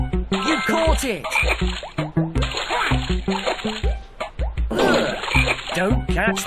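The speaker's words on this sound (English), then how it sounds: "Don't catch the grumpy toads." Grumpy toads croaking in the Dora the Explorer Click & Create PC game, repeated deep croaks and splashy water effects over bouncy game music, with a voice talking throughout.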